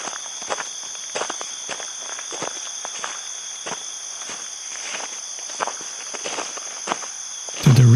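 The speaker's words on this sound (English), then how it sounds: "To the rhythms of the crickets and the birds." Footsteps walk slowly and steadily at an even pace through an outdoor setting while crickets chirp continuously in a high steady trill behind them, ending with a brief louder rustle.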